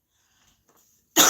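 After near silence, a single loud, close cough bursts out abruptly at the very end.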